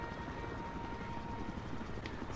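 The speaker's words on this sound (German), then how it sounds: "Der Heli geht mir gerade ein bisschen auf den Senkel." A helicopter in the video game Battlefield Hardline drones steadily throughout, its rotor and engine forming a constant, fairly loud whir with no talk over it.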